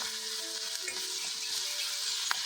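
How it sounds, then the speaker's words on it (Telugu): Food frying on high heat in a pan with turmeric, a steady broadband sizzle running throughout while a utensil stirs with soft scraping strokes, close and fairly loud, no voices. "పెద్దగా పెట్టి కలుపుతున్నాను నేను, ఎందుకంటే పెద్దగా పెడితే మంచిగా తొందరగా ఫ్రై అవుతుందని."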